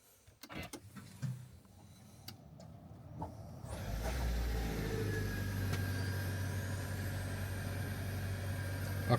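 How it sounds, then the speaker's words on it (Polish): Petrol engine of a 2025 MG HS Hybrid+ starting up after a near-silent hybrid start, settling into a steady low idle hum inside the cabin with a faint rising whine above it. "Akurat włączył się silnik spalinowy."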